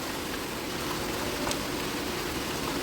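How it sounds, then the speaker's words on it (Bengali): Steady, dense rain falls continuously outdoors, a broad even hiss that fills the whole clip at moderate loudness with no speech. "প্রচুর বৃষ্টি হয়েছে পরে শুনলাম এখানে তো আবার শুরু হয়েছে"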